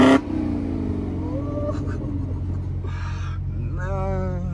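Hellcat Redeye car engine with a manual transmission, idling with a deep steady low rumble that rises in a few revving pulls, heard close by outside, with brief voices in the background.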